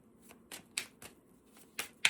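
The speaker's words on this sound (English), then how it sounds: "Am I shuffling backwards? I totally am." Tarot cards being shuffled by hand in a series of quick riffling bursts, about six crisp papery flutters spaced roughly a third of a second apart, close and fairly quiet with no talking.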